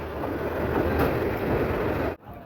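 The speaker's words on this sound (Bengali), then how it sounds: "ট্রেনটি আখাউড়া রেলওয়ে জংশনে প্রবেশ করছে।" A commuter train entering Akhaura railway junction in Bangladesh rumbles loudly and steadily with a broad roar of wheels on track, then drops off abruptly near the end.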